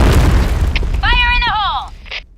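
A grenade blast in the shooter game Point Blank lands as a loud, deep boom that rolls off while a shouted voice line rings out over the fading rumble.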